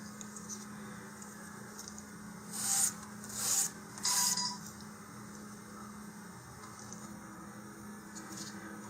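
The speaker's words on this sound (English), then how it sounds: "I'm going to first go through and just sand them all flat" Sandpaper is rubbed across surfaces to flatten them, three distinct close rasping strokes in a row amid quiet background hum.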